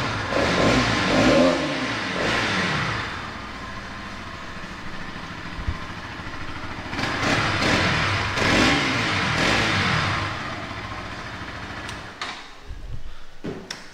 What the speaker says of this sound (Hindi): थोड़ा रेव करते हैं,